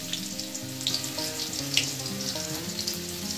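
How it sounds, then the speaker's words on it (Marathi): Crushed garlic sizzles in hot oil for a tempering, a steady bright crackle with occasional sharper pops, close and continuous while cooking a tandalachi leafy vegetable dish. "चला तर आता लसणाची मस्त अशी फोडणी देऊया।"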